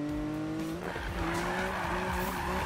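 Tires squeal continuously as a car drifts in Need for Speed, a long screech layered over a droning engine tone, loud and steady throughout without any voices.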